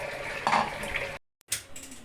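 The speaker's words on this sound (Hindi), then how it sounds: "अच्छा, अब हम इसमें पानी ऐड कर रहे हैं," Water poured into a pot of haleem with kitchen clatter, a steady close pour that cuts off briefly to silence, then resumes with a splashing burst.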